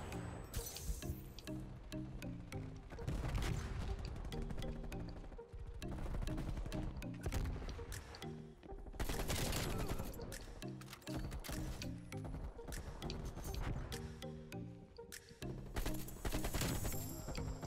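Dense, rapid gunfire fills the Call of Duty Cold War match: AK-47 bursts and other weapon reports crackle continuously with game effects, loud throughout, with no voice over it.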